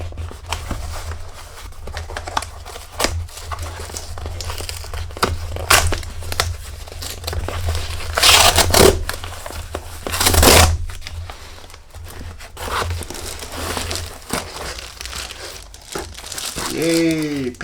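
The packaging of a Google Pixel 4a smartphone is opened with scissors, with loud plastic and paper crinkling, tearing and rustling close up throughout.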